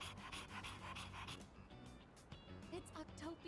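A dog in the video game Persona 3 Reload pants in quick, rhythmic breaths, close up, while a voice speaks over it and soft music plays underneath.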